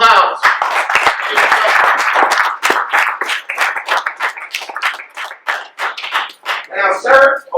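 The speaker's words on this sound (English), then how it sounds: "Let's give him a round of applause." Small live-show audience clapping as a volunteer is called up on stage, a steady patter of hands that thins out and turns sporadic, with a bit of voice near the end.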